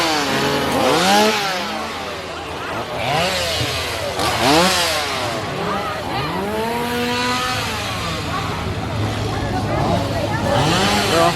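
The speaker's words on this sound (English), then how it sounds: "There's some chainsaws right over here by the entrance of the zone." Chainsaws rev by the entrance of a Halloween scare zone at SeaWorld's Howl-O-Scream, giving repeated rising and falling engine whines with sharp swells, loud and close, over a busy crowd murmur.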